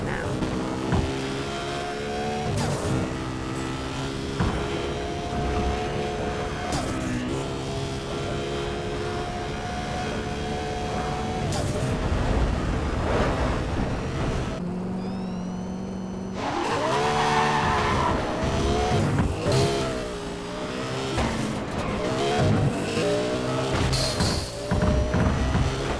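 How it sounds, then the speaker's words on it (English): A Subaru Impreza engine in the racing game Need for Speed World drones steadily for about fifteen seconds, cuts out briefly, then returns with rising and falling revs, loud and continuous, with game sounds layered alongside. "I'd say the Subaru Impreza is quite a good one for you."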